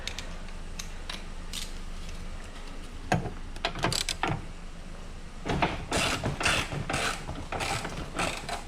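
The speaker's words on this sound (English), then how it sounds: "I'm using an extension with a deep socket, 10mm." A ratchet fitted with an extension and deep 10mm socket loosens a bolt on the rear left door of a 2014-2019 Chevrolet Silverado, making bursts of rapid clicking and some clunks, close and moderately loud.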